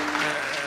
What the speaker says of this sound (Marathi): गुरुजीसाठी सुद्धा एकदा टाळी वाजवा